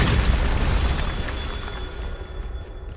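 A loud, rumbling blast from the Bombarda spell in Hogwarts Legacy, a broad booming explosion that fills the moment and slowly decays with a noisy tail.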